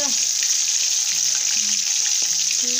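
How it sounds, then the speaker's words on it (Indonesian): Fish fries in hot oil with a steady, dense sizzle throughout, close and loud, with faint clinks and soft sounds beneath. "Dia kena ada juga ikan goreng."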